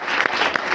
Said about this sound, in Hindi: समझ में आया है तो ताली बजा दें।